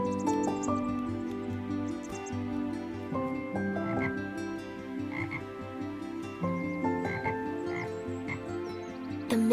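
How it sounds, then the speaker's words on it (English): A bullfrog bellows deep, repeated croaks from a calm river at morning, a steady run of resonant calls layered over one another throughout, with no voices present. "A bullfrog bellowed his morning croak."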